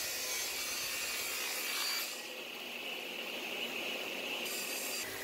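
A power saw cuts a 45-degree chamfer along plywood drawer faces, a steady rasping whine that shifts pitch and weight partway through as the blade moves along the wood, with no talk.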